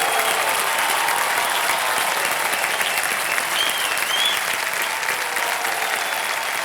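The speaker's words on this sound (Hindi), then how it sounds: "तालियां बज जाएं इनके लिए एक बार फिर से" A studio audience at a Kaun Banega Crorepati taping claps loudly and steadily, a dense, even roar of applause that fills the whole stretch, with a faint whistle partway through.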